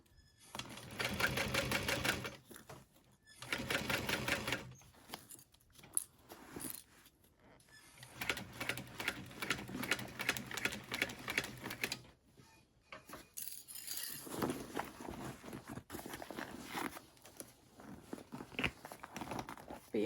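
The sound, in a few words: sewing machine stitching binding on a barrel bag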